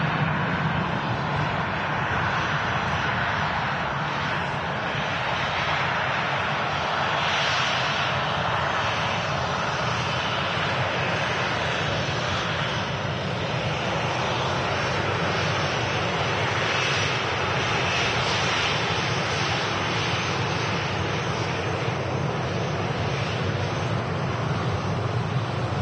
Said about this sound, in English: Jet2 A321 on the taxi out, heading off to Alicante.